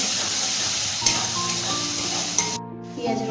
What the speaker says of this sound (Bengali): এবার এই রসুনটাকে পেঁয়াজটাকে ভালো করে ভেজে নেবো